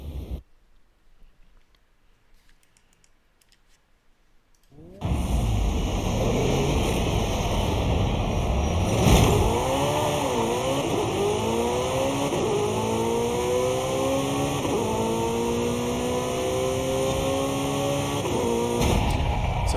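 A Porsche in a racing video game launching on a speed run: after a quiet start, a loud engine roar climbs through several rising gear pulls, each pitch sweep dropping at the shift before climbing again.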